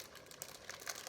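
Brief crinkling of a plastic pasta bag, a few soft rustles and crackles close by, with no voices.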